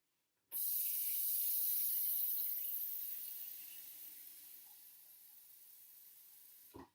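Water running from a tap into a sink, a steady bright hiss that starts abruptly, slowly softens, and stops with a click, close and alone.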